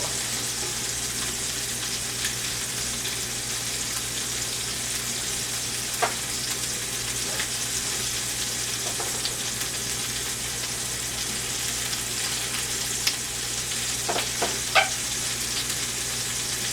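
Chicken leg quarters browning in a pan give a steady, moderate sizzle and fry throughout, with a few faint clicks and scrapes of handling and no speech.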